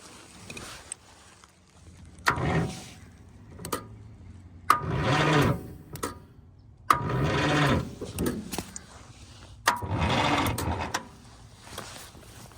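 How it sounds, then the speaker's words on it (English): A 1984 International 484 tractor engine cranks over in four separate bursts of a couple of seconds each, a rhythmic chugging from the starter that does not catch, with quiet pauses and clicks between attempts. "So it doesn't really turn over better when I push the clutch."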